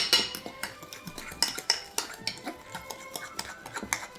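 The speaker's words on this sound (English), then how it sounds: "I'm gonna kind of stir this in a little bit." A metal spoon stirs foamy butterbeer in a glass bowl, giving a steady run of light clinks and scrapes against the glass, close and clear with no talking.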